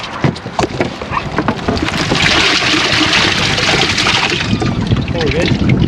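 Water gushes and splashes continuously close by as fish are rinsed on a scale aboard an inshore fishing boat off Sanibel, Florida, with brief talk early on.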